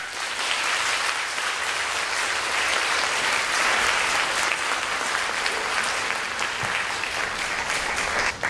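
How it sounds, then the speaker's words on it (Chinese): An audience at a literature lecture applauds to welcome a speaker on stage, producing loud, continuous clapping from many hands that fills the whole stretch without pause. "现在请以最热烈的掌声欢迎金宇澄先生上台"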